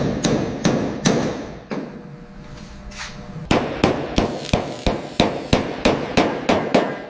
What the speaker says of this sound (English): Reshaping the metal. Listen to the rhythm of the hammer.